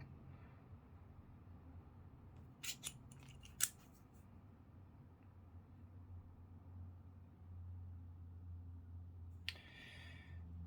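A few sharp clicking bursts from a 1/4-inch drive T-handle ratchet, spaced apart by quiet stretches over a low background hum.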